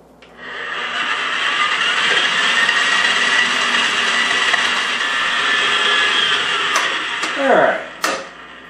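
Electric hand mixer whirring steadily for several seconds as it beats low-carb pecan pie cheesecake filling, loud and close, then winding down with a few bumps at the end.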